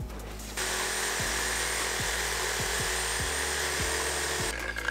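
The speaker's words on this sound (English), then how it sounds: "now I'll just cut those handbrake cables" A power tool cutting through car handbrake cables on a twin-turbo LS Fox Body build, a steady loud grinding whine with a series of sharp, repeated catches and bites as the blade works.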